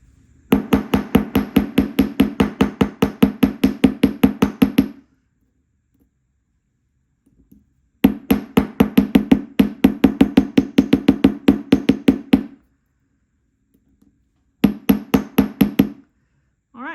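Close, loud bursts of rapid hammer strikes flattening and texturing a copper wire bangle, about a dozen or more even blows per burst, in three runs separated by quiet pauses, with no talk.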